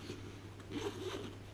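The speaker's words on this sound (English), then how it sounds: "So that closes up and zips up." A zipper is pulled closed along a compartment of a carry bag for a DJI Tello drone. It sounds as a quiet, close, textured rasp lasting over a second, with no voices.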